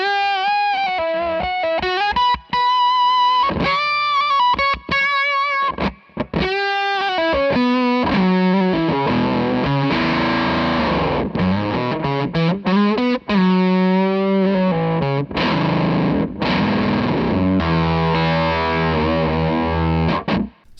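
An electric guitar plays through an Argo pedal chained into a Dane pedal, producing a thick, distorted tone across a run of riffs and sustained chords with short pauses between phrases.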